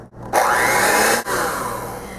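Cream cheese and sugar-free sweetener being blended for a mini pumpkin cheesecake, a steady loud whirring mixer that runs close up for about two seconds with one brief dip, no voices.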